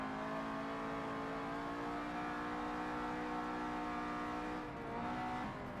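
A race car engine in Forza Motorsport 7 holds a steady, loud, high-revving drone under throttle, briefly dipping near the end before pulling again, with no talk over it.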